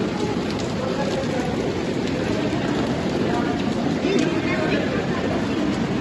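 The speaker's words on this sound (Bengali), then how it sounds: "উপর থেকে বৃষ্টি পড়ছে" Waterfall spray pouring down like rain at Pokhara, a dense, steady hiss of falling water close by throughout.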